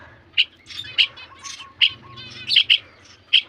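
Young house sparrow chicks being fed give a series of about eight sharp, loud, high chirps at irregular intervals, close by, with quieter twittering between them.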